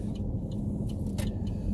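Car idling in slow traffic during a carpool, a steady low engine rumble and road hum filling the cabin, with faint jingling keys near the start and end.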